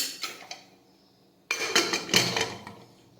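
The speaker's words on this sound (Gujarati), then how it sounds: "હવે આપણે કુકરનું ઢાંકણ છે તે બંધ કરી દઈશું" A pressure cooker lid being fitted and closed over bottle gourd and chana dal curry: a few light metallic taps, a pause, then a burst of close clanking and grinding metal contact.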